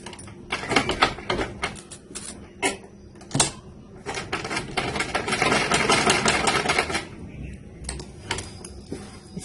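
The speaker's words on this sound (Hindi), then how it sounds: "इस तरह रख के आपने इसको पहले सिलाई लगा लेनी है।" A sewing machine stitches elastic onto fabric in rapid mechanical bursts, stopping and starting with short pauses and one longer continuous run, close and clear.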